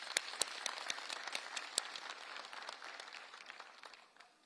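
Faint, steady clapping from a small crowd at a military farewell ceremony, fading slightly toward the end.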